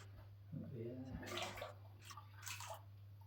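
Water poured from a bucket into a betta fish tank, an Aqua One Betta Trio, gushes and splashes steadily, with a low background hum and a voice speaking over it at the start.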